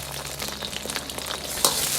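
Ginger and garlic slices with small chili peppers stir-fry in hot oil as oyster sauce goes in, giving a steady close sizzle with scraping stir strokes and a sharp clink near the end.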